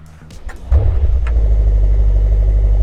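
A Brabus-tuned car with a newly fitted exhaust cranks and catches, and its engine fires into a deep, loud, steady idle rumble close by.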